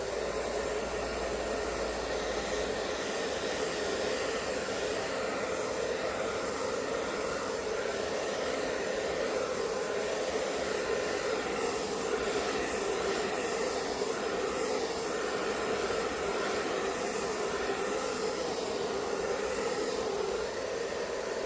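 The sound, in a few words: hair dryer blowing acrylic pour paint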